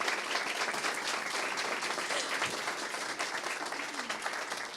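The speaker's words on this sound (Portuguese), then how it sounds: "queria pedir uma salva de palmas para esse time que fez esse super evento" A crowd at a volunteering network debate event applauds the event team, dense sustained clapping filling the room at steady loudness for several seconds, with a faint voice or two underneath.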